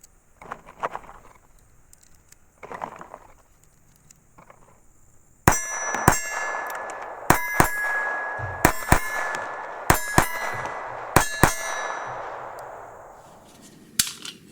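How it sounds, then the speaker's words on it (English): Hollow point .22 rounds being pushed into a Ruger SR-22 pistol magazine: a few soft handling clicks, then a string of sharp metallic clinks and snaps at uneven intervals over a faint steady hiss, close and fairly loud. "You hold that guy down and just jam your ammo in there."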